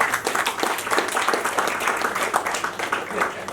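A crowd at a film launch event applauds steadily throughout, dense overlapping claps forming a continuous wash of noise, with a few sharper claps standing out.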